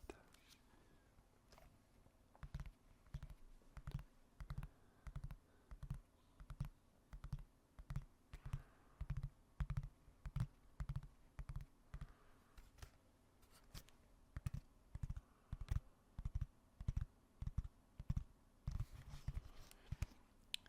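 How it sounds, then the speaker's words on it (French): Close, crisp tapping on a computer keyboard in uneven bursts of keystrokes with short pauses, a soft voice occasionally speaking underneath. "un petit peu de tapping sur le clavier et du bruit de touche sur le clavier"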